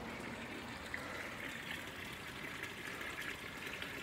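A garden water feature trickles and splashes steadily and continuously, like a small fountain, with no voices and a faint outdoor hush behind it.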